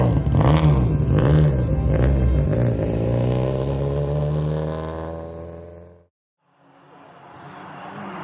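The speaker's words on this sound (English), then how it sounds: "Service complete. The cars head out." Rally cars pull away from service in a Maine forest event, engines loud and close with rising revs and gear changes, a brief gap, then another car accelerating away.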